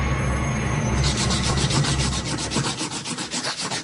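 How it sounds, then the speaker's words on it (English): A head scraping against a wall in a comedy audio drama set in Hell, a rough continuous rubbing and rasping sound that starts loud and steady, then breaks into rhythmic strokes, with no voices. "Why are you scraping your head against the wall?"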